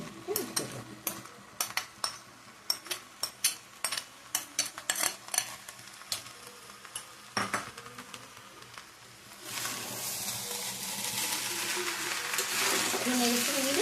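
Spice paste stirred into pulao in a pot: a long run of quick, light metal taps and scrapes up close, followed by a steady, louder hiss of cooking in the pot.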